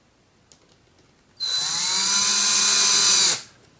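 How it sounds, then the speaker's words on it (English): A power screwdriver drives small screws into a picture frame in one steady, loud, high-pitched whir of about two seconds, close up, after a single sharp click. "And then I just grab a couple little screws, and I, of course, screw them in"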